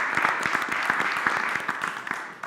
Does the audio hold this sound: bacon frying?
no